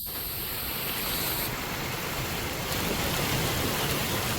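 Steady rain pours down as a dense, constant hiss, loud and close, with no voices.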